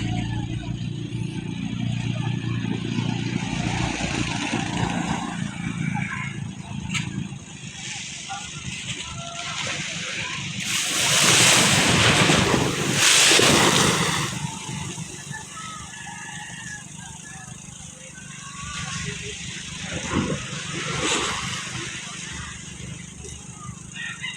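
Small fishing boat engines putter and water sloshes nearby on Manila Bay, swelling louder in the middle as a craft passes, over a continuous outdoor rumble.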